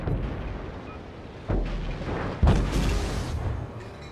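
Heavy booming impacts in a World of Warships naval battle, torpedo hits exploding against a battleship: a low rumbling bed punctuated by two sharp, loud blasts about a second apart, with no talk.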